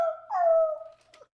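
A dog under attack gives a single drawn-out, high yelping howl that wavers and fades over about a second, loud and close with no talk over it.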